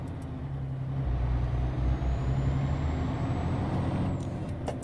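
A MAN TGX truck pulls away slowly on a snowy road in Euro Truck Simulator 2, its low diesel engine rumble building steadily with a faint rising whine and no voices.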